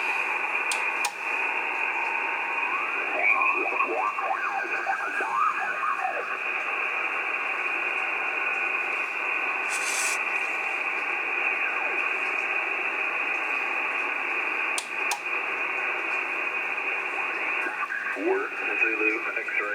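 Amateur radio signals come in through a satellite antenna on an M2 LEO Pack setup, a steady hiss of static with warbling tones, chirps and brief bursts of faint voice drifting across the band.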